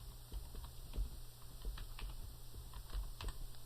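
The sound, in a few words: typing on a computer keyboard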